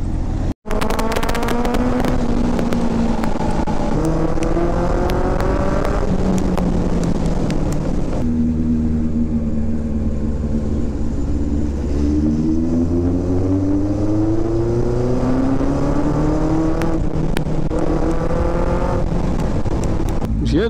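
A motorcycle fitted with an SC Project exhaust revs and rides close by, its loud throaty note rising and falling through gear changes and swelling again in repeated pulls.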